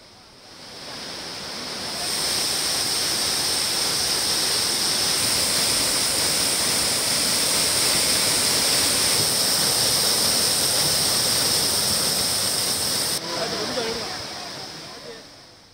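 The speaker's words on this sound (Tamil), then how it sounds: "குற்றாலம் மெயின் அருவியில் திடீரென நீர்வரத்து அதிகரிக்க தொடங்கியது." Loud, steady rushing water roars continuously from the Courtallam main waterfall as its flow surges, building after a quieter start, with faint voices underneath.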